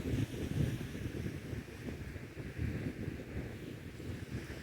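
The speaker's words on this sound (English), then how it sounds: "You can hear the sound of the waves in the background." Ocean waves washing onto a beach, a continuous low rushing surf with steady wind buffeting the microphone, no voices.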